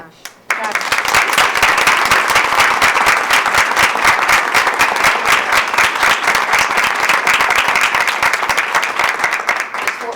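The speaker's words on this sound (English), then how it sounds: "They all deserve amazing applause" Students at a board of education meeting receive sustained, loud audience applause that starts abruptly after a brief pause and continues dense and steady throughout.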